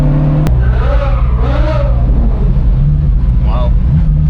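A Ferrari F40 supercar engine drones loudly as it drives, with rising and falling revs swelling in a few bursts, and people talking over the steady roar.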